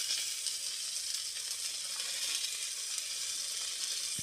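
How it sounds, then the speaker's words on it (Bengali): Saag greens fry in a hot pan with turmeric, giving a steady, close sizzling hiss that holds evenly throughout with no voices. "ভালো করে ভেজে নিতে হবে।"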